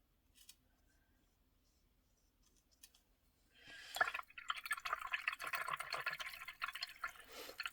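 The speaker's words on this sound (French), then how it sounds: "je secoue bien mon pinceau dans l'eau pour vraiment enlever tous les pigments" A paintbrush shaken in a water cup to rinse out paint pigment: after near silence and a few faint taps, a close, busy swishing and splashing of water rises and continues.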